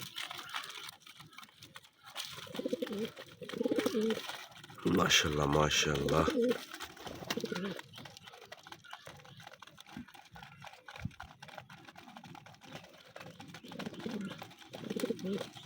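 Pigeons coo and flutter at a pigeon farm during morning feeding, soft repeated coos throughout with a louder burst of wingbeats midway, while a person talks over them.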